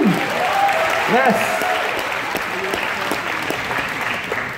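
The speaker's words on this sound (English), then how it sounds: "Let's hear a round of applause for the new bathrooms." Audience clapping at a theme park presentation for enthusiasts, a steady round of applause with a cheer and speaking voices over the start before the clapping carries on alone and slowly eases.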